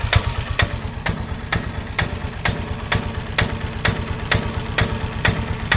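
A 2008 Piaggio Ape three-wheeled load carrier ticking over at idle: a rapid low putter with regular sharp taps roughly every half second, recorded up close and unchanging throughout, no voices present.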